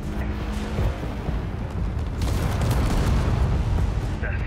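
Missiles fired and exploding in a Space Engineers battle, a run of rumbling booms and blasts layered over a steady roar, with voices speaking over the noise.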